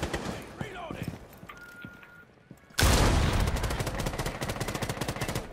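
Rapid gunfire in the video game Rainbow Six erupts loudly after a brief quiet, dense bursts of shots continuing steadily, with players talking over the game beforehand.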